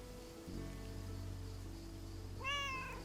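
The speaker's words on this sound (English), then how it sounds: "And her cats, of course. Seems like they've multiplied." In the video game Lake, a cat gives a single clear meow near the end, rising and falling, over a low steady ambient hum with a faint rain-like hiss.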